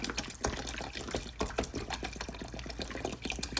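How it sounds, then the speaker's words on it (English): Water poured from a plastic bottle into a container holding toy eggs, a steady splashing, gurgling fill that runs close and continuous for several seconds with no talk. "So we're gonna go ahead and get that other bottle of water in there."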